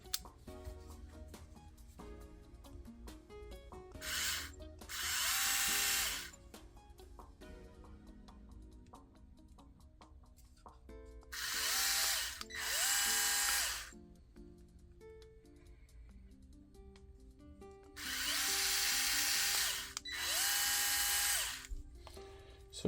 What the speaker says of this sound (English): This is more like driving a drywall screw into drywall and stuff like that.